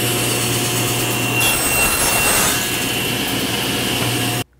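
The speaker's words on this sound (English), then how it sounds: "Let's go ahead and rip it down again to 1/8 by 1/8" Table saw with a GRR-ripper push block ripping a strip of wood down to 1/8 by 1/8 inch, a loud continuous whining roar with the blade biting through mid-cut before the sound cuts off abruptly.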